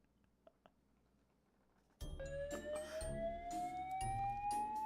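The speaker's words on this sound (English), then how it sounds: "A fire alarm." A fire alarm in the video game Truth starts abruptly after quiet, then blares continuously as a loud, steady siren-like tone with a rising pitch for the rest of the clip, with no talk over it.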